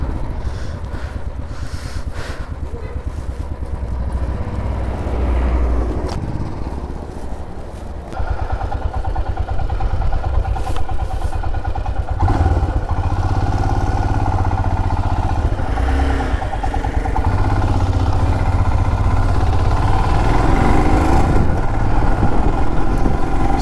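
A motorcycle rides along the mountain road from Gangtok toward Nathula Pass in East Sikkim, its engine droning loud and steady throughout with wind rumble, no talking.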